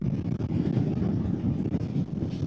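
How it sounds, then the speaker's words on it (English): Strong wind buffeting the microphone on an exposed hilltop, a steady low roaring rumble with gusty fluctuations and no speech. "It's very windy up here"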